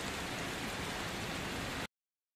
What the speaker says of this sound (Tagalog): ang lakas ng ulan, hindi tayo makapunta sa swimming pool